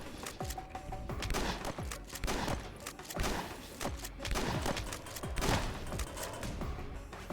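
Video-game gunfire during a bank robbery shootout, a steady run of sharp shots and thuds repeating throughout, fairly faint and busy, with no voices.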